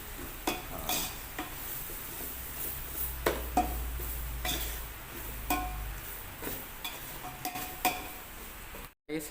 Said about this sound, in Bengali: এখন মশলাটাকে ভালো করে কষিয়ে নিতে হবে